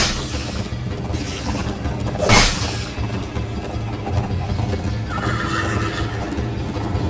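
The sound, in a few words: galloping horse neighing in Minecraft: Story Mode video game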